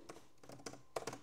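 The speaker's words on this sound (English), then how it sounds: "we're going to go up to the address bar and type" Keys on a computer keyboard click in a short, quick run as a web address is typed, several faint, close taps in uneven clusters with no talking.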